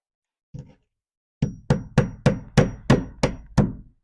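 Hammer blows drive nails through plastic caps into house wrap over wall sheeting: one light tap, then seven sharp, evenly spaced strikes in quick succession, close and loud.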